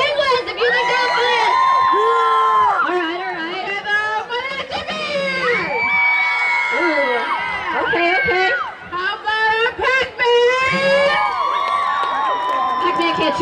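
Loud crowd of adults and children cheering, whooping and shouting for costume contestants at a Halloween party, rising and falling in bursts with continuous babble throughout.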